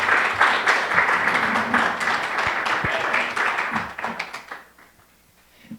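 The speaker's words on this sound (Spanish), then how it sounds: "Un fuerte aplauso para el Padre." Dense applause from an audience honoring a priest after a talk on spirituality, steady clapping for about four seconds, then thinning out and fading to a few scattered claps.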